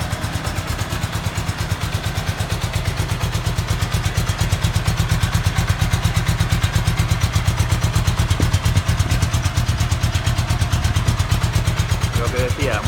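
A 1977 Honda GL 1000 motorcycle engine idles steadily and close by, a fast even pulsing with some mechanical clatter running unbroken throughout the whole stretch.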